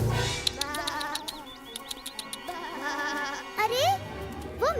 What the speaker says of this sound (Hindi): इस बार मैं सुदामा की नाक के नीचे से ये सारी भेड़ें चुरा ले जाऊंगा।